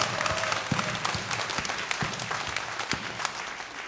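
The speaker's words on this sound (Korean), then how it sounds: "우리 하나님께 감사의 박수로 주님 앞에 올려드리겠습니다." A church congregation breaks into sustained applause during a Sunday sermon, a dense steady clatter of many hands filling the space, with a few sharper individual claps standing out and no talk over it.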